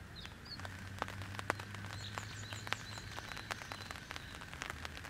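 Rain falling outdoors at a scenic car-camping spot at a park in Nanto, Toyama, a soft continuous patter with scattered drops tapping on a surface, faint and steady.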